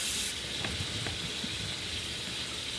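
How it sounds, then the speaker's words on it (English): Steady hiss of spray clear coat from an aerosol can misting onto a wine bottle vase, a continuous close spray with a brighter burst at the start. "Clear coat on the wine bottle."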